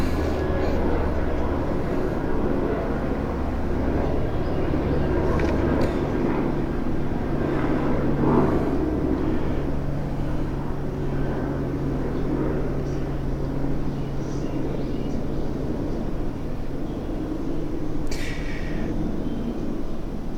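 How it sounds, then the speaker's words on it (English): Steady low roar of an aircraft passing overhead, loud and continuous throughout with no talking. "we'll do this right after this airplane passes by"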